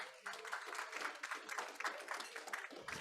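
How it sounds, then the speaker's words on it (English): Applause for Nancy at a Rotary Club of San Francisco virtual meeting: steady, dense clapping from several participants that runs for about three seconds at moderate level, with no voices over it. "Why do you say one more round of applause for Nancy?"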